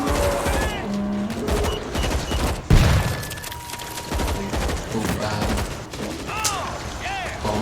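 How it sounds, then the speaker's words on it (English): Automatic turret gunfire in the World War Z video game's New York section: rapid, dense bursts of shots roll on continuously, with a heavier boom near the middle, all mixed with other game noise. "Over here, automatic turret."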